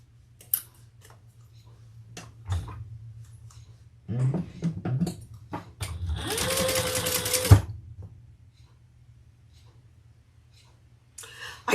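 A sewing machine runs in a couple of short bursts and then a longer steady whir while sewing a lining seam, with clicks and handling noises around it in a quiet room.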